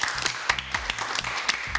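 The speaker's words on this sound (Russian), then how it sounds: "Так, аплодисменты." An audience applauds after a short self-introduction at a youth science talk, a dense, even patter of many hands clapping close by without pause.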